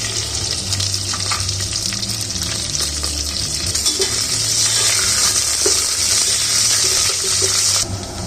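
Green chillies and onions for a country chicken biryani sizzle loudly in hot oil, a dense close frying hiss that swells after a few seconds, with occasional stirring clicks and a low hum beneath.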